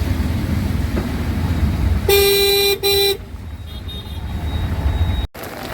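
Road traffic near a bus stand in rainy weather rumbles steadily, with a car horn giving two loud toots close by in the middle and vehicle engine noise running throughout, with no talking.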